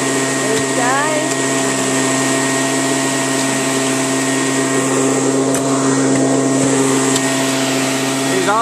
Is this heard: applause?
no